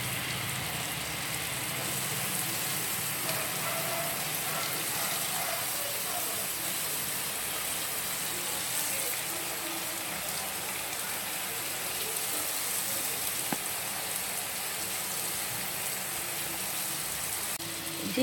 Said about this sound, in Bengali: ঝিকা আর পেঁয়াজটা ভাজা ভাজা হয়ে গেছে